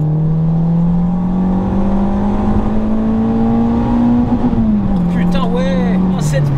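Renault Clio 2 RS engine revving hard toward the rev limiter, a loud sustained rising drone that climbs, holds, then drops briefly before catching again, heard from inside the car.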